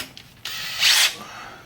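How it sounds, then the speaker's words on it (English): A power drill briefly whirs as it turns the oil pump of a 1966 Ford Bronco engine, a short high-pitched burst about a quarter second long after a few faint mechanical clicks. "you'll want to take your drill and make sure you turn your oil pump counterclockwise"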